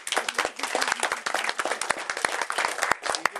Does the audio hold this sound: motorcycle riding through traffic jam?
no